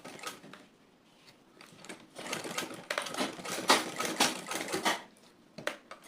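Sewing machine stitching boning into a bust cage, heard as quick bursts of needle clatter with short pauses between runs, close and moderately loud.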